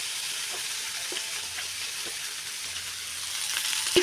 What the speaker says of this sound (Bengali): এটা আমি এখন ভেজে নিচ্ছি